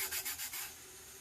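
A glitter tattoo tumbler's surface is rubbed by hand, a quiet, close scratchy rubbing in quick strokes that fades to a soft hiss.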